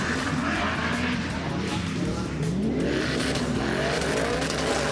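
Cars in a tandem drift pursuit competition, one chasing the other, roar loudly and continuously with sweeping, rising and falling engine revs and some tire squeal close by.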